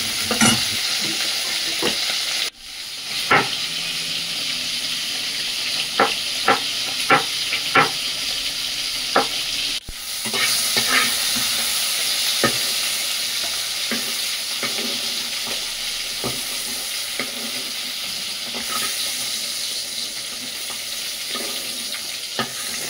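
Salted, turmeric-coated prawns sizzle in a hot pan under a constant hiss, with repeated sharp scrapes and clacks of a spatula stirring them, near and fairly loud, with no talk.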